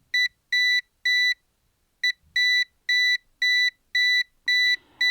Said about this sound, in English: As I get near and I check out the plug, you can hear the unit beeping